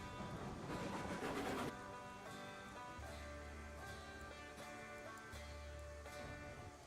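A runaway train rolling in the Railroads Online video game gives off rhythmic rail clatter and low rumbling bursts, with a louder burst at the start followed by steadier clanking and humming.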